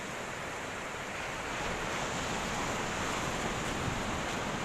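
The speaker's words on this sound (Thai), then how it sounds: "ทะเลสวยนะครับ ทะเลสวย เดี๋ยวผมจะลงไปถ่ายตามชายหาดนะครับ" Ocean waves wash steadily onto a beach at Oarai, Japan, a continuous broadband surf roar with some wind, loud and unbroken, no voices.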